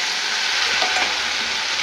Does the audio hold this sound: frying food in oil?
yes